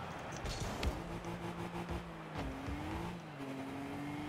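A Nissan Skyline racing car engine in a video game hums steadily and shifts pitch as it accelerates, with a few sharp knocks, heard alone without speech.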